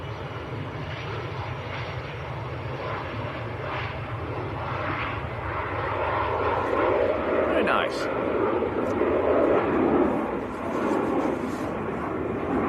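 A jet airliner departs Manchester Airport bound for Faro, its engines a broad, sustained roar that swells gradually to a peak and holds, heard from a distance across the airfield.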